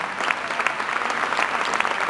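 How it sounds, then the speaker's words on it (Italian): Dense audience applause at an award ceremony, a steady wash of many hands clapping at once, loud and sustained throughout. "Facciamo un applauso anche alla gatta."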